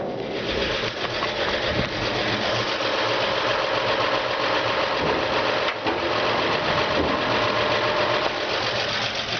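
A 1954 Chevy 3100 truck with a 235 engine and a just-rebuilt carburetor idles close by, a steady, busy mechanical clatter with a fast, even rhythm throughout and no voices.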